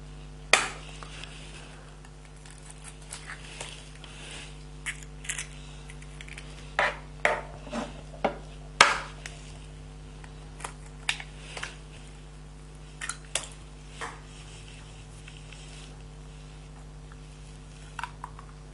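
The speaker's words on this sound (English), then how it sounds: "just beat all those soft ingredients together" Utensil clinks and scrapes against a mixing bowl as chocolate, butter, brown sugar and eggs are beaten together, irregular clacks of varying loudness over a quiet background hum.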